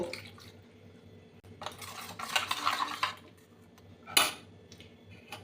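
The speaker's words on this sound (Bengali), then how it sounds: "লঙ্কার গুঁড়ো আর অল্প লবণ ভালো করে গুলে নেব" Chili powder and salt being stirred into a spice mix, with close clinks and scrapes of a spoon against a metal bowl in short bursts, one sharper clang near the end, no talk.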